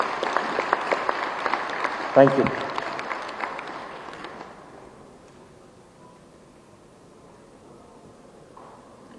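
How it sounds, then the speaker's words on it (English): An audience at the Green Cementech 2023 awards ceremony gives someone a loud round of applause that lasts about four seconds, then fades out as a voice briefly speaks. "can we just have a huge round of applause for Mr."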